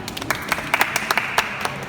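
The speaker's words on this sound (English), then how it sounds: "let's do a round of applause for Kampala" Scattered clapping from a small group of delegates at a conference after a presentation from Kampala, sparse and uneven, a few hands heard close by in a room.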